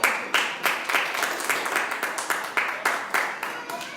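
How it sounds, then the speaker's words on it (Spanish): Steady rhythmic clapping from a church congregation, beating in time at a brisk pace for the whole stretch, with no talking. "Denle un aplauso al Señor"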